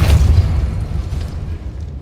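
Depulso force spell cast in Hogwarts Legacy, a loud low boom at the start that fades into a rumbling tail, with no voices.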